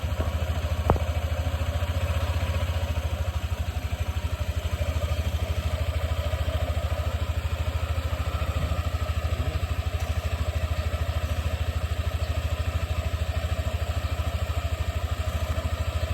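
A repaired motorcycle engine, freshly cured of a ticking fault, runs at a steady idle, even and continuous throughout, with a faint tick near the start.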